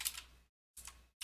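Typing a command on a computer keyboard in Ubuntu, two short bursts of quiet, close keystrokes separated by a brief silence, with no talking.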